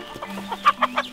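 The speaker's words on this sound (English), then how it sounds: "This chicken is also part of the farm here." A chicken on a tea farm clucking, a short series of close, sharp clucks that grow louder toward the end, with a faint low hum underneath.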